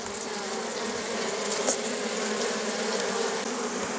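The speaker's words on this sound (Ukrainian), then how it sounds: "Після цього струшуємо одну рамочку із молоденькою бджолою." A dense swarm of honey bees drones with a continuous high buzzing, close and steady, as bees are shaken from a frame into a bucket hive, with no talk.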